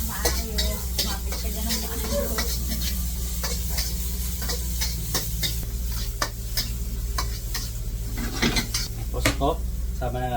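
Close sautéing for ginataang labong with shrimp: a steady sizzle in a pan with frequent clicks and scrapes of a utensil stirring, while background voices and music carry on underneath.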